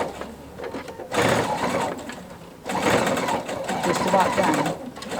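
PFAFF sewing machine with a binder attachment stitches an apron, two bursts of fast steady whirring separated by a pause, close by, with someone talking quietly over it.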